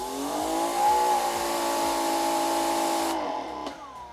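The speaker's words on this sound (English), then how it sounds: "Now, as you can see, the motor runs constantly while it's on." Greenworks 3000 PSI electric pressure washer with its motor humming steadily at close range, a constant electric drone with a faint rhythmic pulse that cuts off abruptly near the end.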